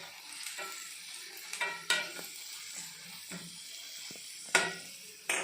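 Onions and green chillies frying in a little oil, a steady soft sizzle broken by several sharp clinks and scrapes of a spoon stirring against the pan, close and moderately loud with no talking.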